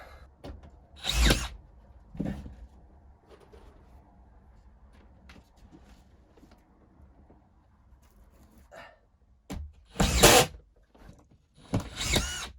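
A power drill drives screws into drywall in short bursts, one early, then two close together near the end, with quiet shuffling and handling in between.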